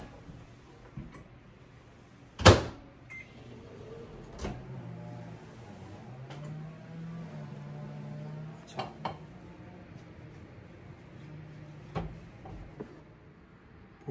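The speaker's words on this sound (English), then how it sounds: "Put it in the microwave for 3 minutes." A microwave oven cooks sweet corn wrapped in wet paper towels, giving a faint, low, steady hum that is broken by a few sharp clicks and clunks nearby.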